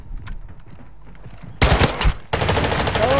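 Rapid automatic gunfire in a PS4 shooter, fired to set off a trip mine: after a quiet stretch, a loud, close burst of dense shots breaks out and keeps going in a steady rattling stream.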